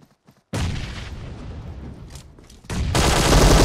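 Gunfire in PUBG Mobile: after a few faint ticks, a dense burst of rapid shots starts abruptly, roars on, dips briefly and then returns louder and harsher. Loud and close, with no talking.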